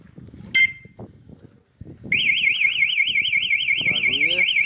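Alarm on a Honda Titan 150 motorcycle going off, a loud warbling siren that starts suddenly and holds steady after a moment of background noise and talk, with a chirp just before it.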